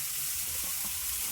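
A brief, close, continuous sizzle of spices frying in a pan for a rui fish curry with flat beans and potato, with faint stirring underneath.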